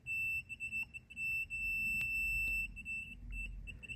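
An Innova 3306A digital multimeter sounds its continuity tone, a steady high-pitched beep that starts, breaks off briefly a few times and resumes, over a low background rumble.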